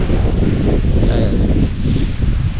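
Strong wind roars continuously and loudly, buffeting the microphone with a dense low rumble and rustling for the whole stretch.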